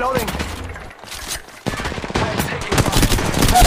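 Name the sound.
gunfire in video game Apex Legends Mobile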